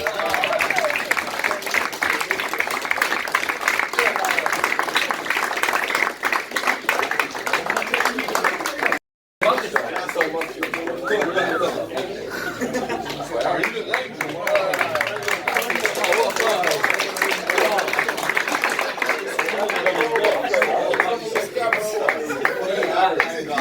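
An audience at a football club's end-of-season awards gives steady, sustained applause that continues for most of the stretch after a brief gap, with scattered voices mixed in.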